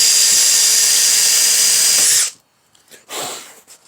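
A power drill bores into the body of a 1972 Oldsmobile Cutlass during spoiler installation, a loud, steady high-pitched whine for about two seconds that cuts off abruptly, followed by brief faint handling noises.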